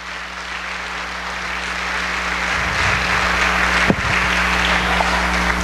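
Applause from a church congregation praising the Lord, a broad steady patter of many hands that swells slightly and continues throughout, with a low hum underneath.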